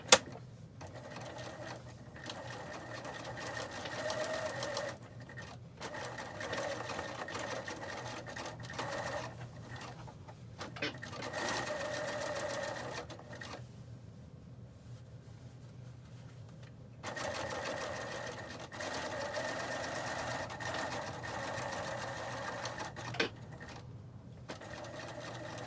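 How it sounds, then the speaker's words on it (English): A sewing machine stitches a fabric face mask in several bursts of rapid, even needle clatter, stopping briefly between runs, heard close and alone. "Pressed, and then I'll sew it."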